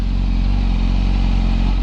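A motorcycle engine running loud and close, a steady low throbbing drone with no clear rise in pitch across the short stretch.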